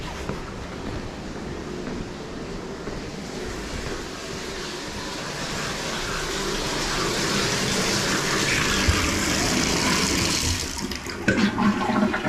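A flushed toilet sends water gushing through a sewer pipe at a cleanout, heard from below as a steady rushing roar that builds louder and ends with a few knocks and splashes.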